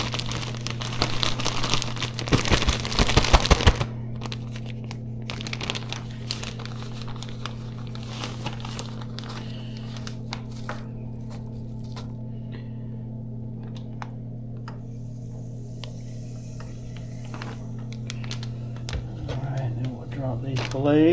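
A battered catfish fillet dropped into hot oil sizzles steadily, a loud crackling burst at the start settling into continuous frying beneath a low hum.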